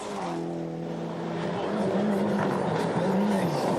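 A 1995 World Rally Championship rally car driven hard at the limit, its engine note rising and falling in sustained tonal sweeps with a narrator's voice running over it.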